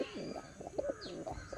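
A pigeon coos close by in a short run of soft, rolling coos with brief gaps between them, plus a faint higher chirp in the background.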